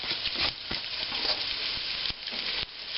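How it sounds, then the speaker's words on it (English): Onions frying in a hot pan for a smoked bacon cabbage dish, a steady close crackling sizzle with scattered pops and stirring scrapes, no talk. "Need to fry the onions to a kind of wilted state"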